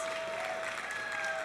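Audience applause at a cosplay contest, a short steady burst of clapping from a crowd, moderately loud and continuous.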